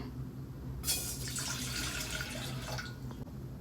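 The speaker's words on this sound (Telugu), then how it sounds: "గిన్నె పెట్టుకుని కొన్ని నీళ్ళు వేసుకుందాం." Water runs from a tap into a cooking pot for sago payasam, a steady splashing pour beginning sharply and continuing for a few seconds before tapering off, close and fairly clear.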